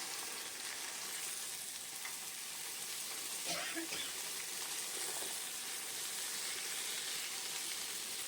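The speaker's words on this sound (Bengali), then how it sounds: "বেগুন আর আলুটা একটু ভাজা করে নেব" Diced potato and eggplant frying in a pan on a home stove, giving a faint, steady sizzle with a soft hiss that runs evenly throughout and carries no talking.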